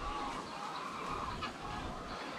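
Farm chickens and young chicks clucking softly in a low, busy chorus, faint and fairly distant, with a few brief chirps over a steady background.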